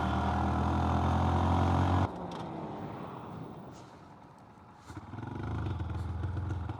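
An unreliable motorcycle revs hard at full throttle in first gear, a loud steady engine roar that cuts off abruptly, drops to a rough sputtering idle, then picks back up into a throaty drone.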